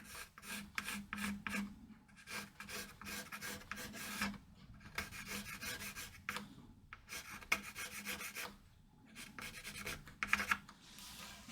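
Wood being carved with a gouge, quiet scraping and rasping strokes in steady repeated runs with brief pauses, close and soft, no talking.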